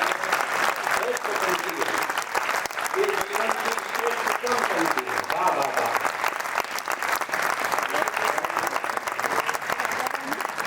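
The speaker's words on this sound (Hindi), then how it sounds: "एक मामूली से गीतकार की मामूली सी पंक्तियों पे आप इतनी देर तक तालियां बजाते" An audience at a Hindi poetry recital claps steadily and densely throughout, a loud sustained wash of hands with no pauses, with a faint voice sometimes showing beneath.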